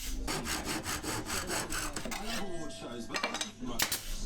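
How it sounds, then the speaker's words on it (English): A hand saw cuts dark wood trim pieces to length on an oak mid-century modern dog bed, a steady run of rasping back-and-forth strokes heard up close, with a few lighter scrapes and knocks near the end. "I applied glue and added the trim using some brad nails before cutting it to length."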